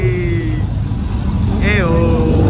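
Porsche 917K race car engine idling at a Monterey Car Week gathering, a steady low rumble under busy crowd noise and chatter, with a brief rising whine partway through.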